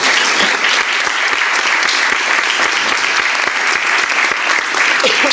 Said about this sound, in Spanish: Un gran aplauso para Lisardo